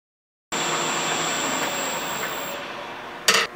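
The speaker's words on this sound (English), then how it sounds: "So I'm going to use my 5/8 inch bowl gouge on that." A wood lathe spins a spindle while a 5/8 inch bowl gouge cuts end grain, producing a loud, steady whooshing whir that starts abruptly and holds, with a sharp burst of cutting noise near the end.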